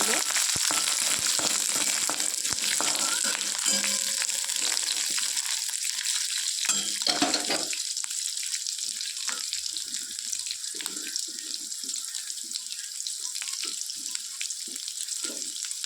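Chopped green chili and onion go into hot oil with curry leaves, a loud dense sizzle close by that slowly eases into a thinner crackle with occasional stirring scrapes, no voices.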